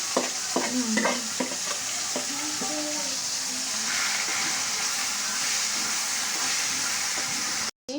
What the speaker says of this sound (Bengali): শাকটা বাগার দিয়ে দিলাম।